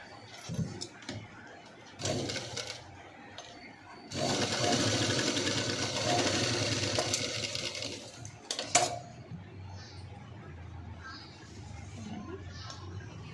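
A sewing machine stitches a blouse cross piece in short bursts, then one long steady run of needle chatter, with faint handling clicks and bumps between runs.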